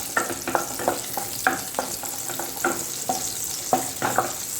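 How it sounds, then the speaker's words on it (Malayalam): Finely chopped garlic and green chillies sauté in a pan, a continuous close sizzle punctuated by a rhythmic series of spatula scrapes and taps as they are stirred, with no talking. "ചെറുതായി മുറിച്ച വെളുത്തുള്ളി, അതുപോലെ പച്ചമുളക്, ഒന്ന് വഴറ്റി കൊടുക്കാം"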